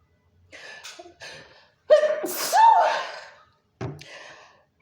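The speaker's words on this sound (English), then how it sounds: "Yeah, I really do sneeze like that." A woman gives a small, high-pitched, squeaky sneeze close to the microphone, preceded by short breathy sounds and followed by another brief burst, in an otherwise quiet room.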